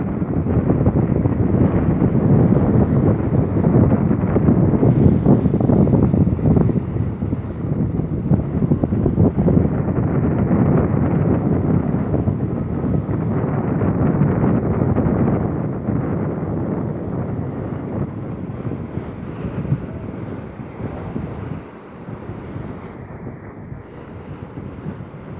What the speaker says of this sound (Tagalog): Lakas din ang hangin mga kosa, sobrang lakas.